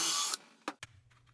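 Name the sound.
screwing 1x2 pine boards to a workbench cabinet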